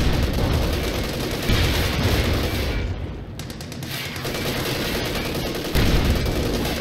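Gunfire rounds striking and bouncing off a bulldozer-equipped Sherman tank in Company of Heroes 2, with dense, continuous bursts of shots and impacts that hold steady and loud, dipping briefly in the middle before resuming.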